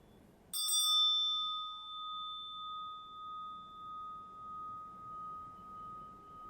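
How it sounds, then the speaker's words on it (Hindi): A Hindu prayer bell (ghanti) is struck once, giving a bright metallic attack and then a long, clear, slowly wavering ring that fades gradually in a quiet room. "ये जो घंटी बजी है"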